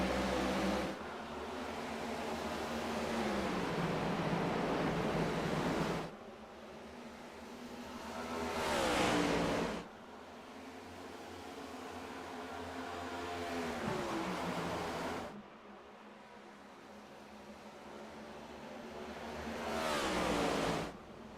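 Stock cars race at Dover in a sim racing game, with engine roars swelling and fading in long repeated passes as the cars sweep by, loud and broadband. No voices.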